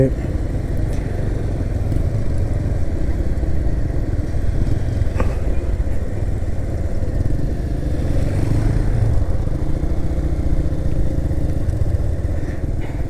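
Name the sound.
motorcycles passing on road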